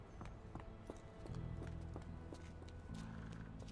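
Horse hooves clip-clop steadily in the video game Sherlock Holmes The Awakened, quiet and even-paced beneath a low droning game soundscape.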